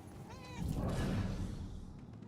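A cat meows in the video game Murdered: Soul Suspect, one drawn-out cry rising over a dense, noisy game background with no talk.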